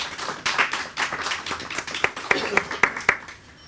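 Scattered clapping from an audience at an Urdu poetry book launch ceremony, a handful of distinct, fairly close claps in an uneven rhythm with a voice talking underneath.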